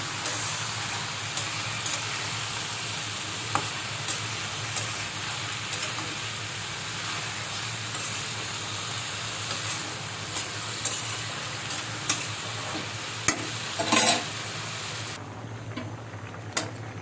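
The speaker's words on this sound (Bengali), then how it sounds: "এখানে আমি করলা ভাজি বসিয়ে দিয়েছি।" Bitter gourd (karela bhaji) frying in a pan, with steady close sizzling and scattered clicks of a spatula against the pan, and one louder clatter near the end.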